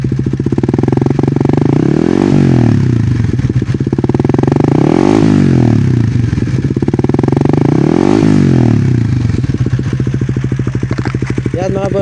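A 2024 Raider 150 Fi motorcycle fitted with a Vhenworkz power pipe revs repeatedly at low RPM, loud and close, its exhaust note rising and falling in steady cycles throughout.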